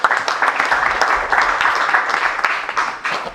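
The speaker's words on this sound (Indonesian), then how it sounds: "Tepuk tangan dulu ya." An audience at a youth pledge event clapping, a loud, dense burst of applause with a few shouts and crowd noise mixed in, close and sustained for a few seconds.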